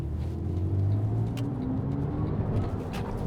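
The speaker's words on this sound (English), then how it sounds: "the sound of the car is incredible" A Porsche 911 997.1 Carrera S engine hums and drones steadily with low rumbling tones rising slightly, heard from close by inside or near the car on a wet road, no voices.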